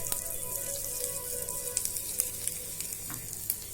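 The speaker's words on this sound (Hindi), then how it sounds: "और अब मैं इसमें फाइनल तड़का लगाऊंगी। और मैं इसमें डाल रही हूँ ये देखिए हींग।" Steady crackling sizzle of hot oil as asafoetida and chili are added for a final kadhi tempering, with small pops and spatters, close by and fairly loud, no voices.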